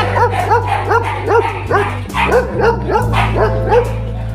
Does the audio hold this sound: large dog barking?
yes